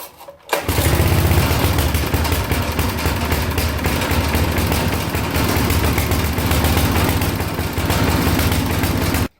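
A Briggs & Stratton small engine, one that runs only with the choke closed, fires up after a brief quiet start and then chugs along loudly and unevenly, close by, for several seconds until it cuts off abruptly.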